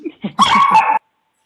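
A small dog gives a few short yips and then one sharp, higher bark, close and loud, in a room during a school board meeting.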